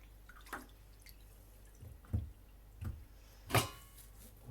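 A Shosera 1000 sharpening stone washed with water during a knife-sharpening session: faint, scattered drips and small splashes arrive irregularly over a quiet background.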